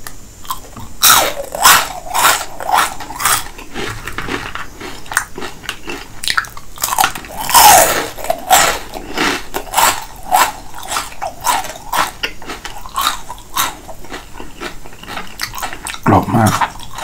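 Crispy fried shrimp bits are bitten and chewed close to the mic, giving loud, repeated crunches in uneven bursts with wetter chewing in between and no talking.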